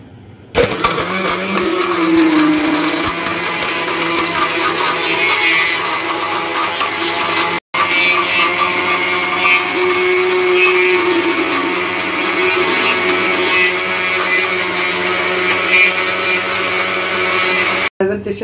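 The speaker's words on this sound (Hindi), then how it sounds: "तो मैं आपके सामने इसको ब्लेंड करती हूँ" A kitchen blender whirs continuously while blending a cold coffee shake with ice cream, loud and close, stopping briefly twice with sharp cut-offs before starting again.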